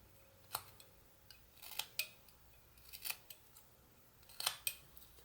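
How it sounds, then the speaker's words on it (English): A whittling knife making stop cuts into a piece of wood while carving a small owl, with faint, crisp clicks and snips at an irregular pace, close and quiet with no talking. "Cut down here, stop cut straight into the wood."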